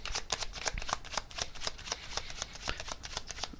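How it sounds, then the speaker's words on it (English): Tarot cards are shuffled in a fast, continuous riffling flutter, close and fairly loud, with no talking over it. "I'm just going to get one more tarot card here on this."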